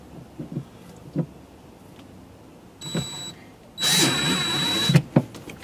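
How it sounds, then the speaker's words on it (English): A screw is driven into a hinge on a warped cooler during a repair, heard as two short whirring bursts of a power driver, the second longer and louder, against a quiet room with scattered light knocks. "Put your other screw in where it was."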